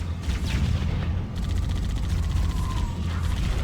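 Machine gun fire in the video game Halo: Combat Evolved, a dense, loud rattle of rapid shots that runs without a break under heavy low rumble.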